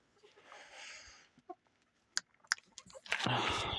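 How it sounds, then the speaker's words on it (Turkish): Istanbul chickens cluck and scratch nearby in short irregular bursts, with rustling and a louder flurry of noise toward the end. "İstanbul tavuklarımız var."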